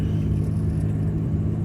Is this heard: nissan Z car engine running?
yes